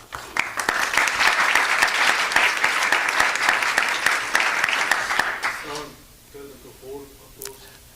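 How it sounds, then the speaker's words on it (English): An audience at an awards announcement claps loudly for around five seconds, with sharp individual claps standing out, then the applause dies away and a voice begins speaking. "Let's hold the applause until the end as I finish all the groups"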